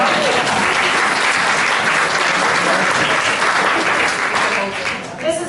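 Sustained, loud applause from an audience at the Artemis 2019 launch event, a dense wash of clapping that fills the room steadily and tapers slightly near the end.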